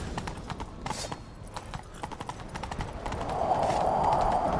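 Rapid hoofbeats of a horse in The Witcher 3: Wild Hunt clatter in a steady galloping rhythm, with a rising whoosh of movement building toward the end.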